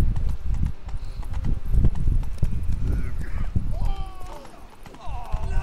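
A horse gallops in The Witcher 3 video game, rapid hoof clip-clops pounding close and loud, with a whinny and game effects, while someone talks over it.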